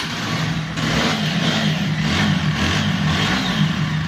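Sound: TVS Apache 4V ABS motorcycle engine revving

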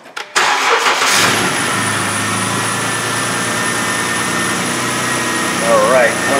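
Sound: Jeep engine starting and idling

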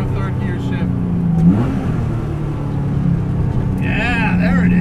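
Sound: 1970 Porsche 911 engine through a third gear shift

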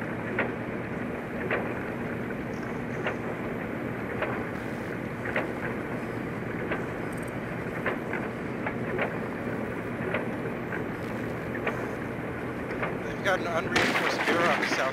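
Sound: gunfire through unreinforced mirror in Rainbow Six Siege, video game

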